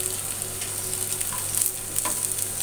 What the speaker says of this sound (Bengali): কিছুক্ষণ নেড়ে টেলে নিব মরিচটাকে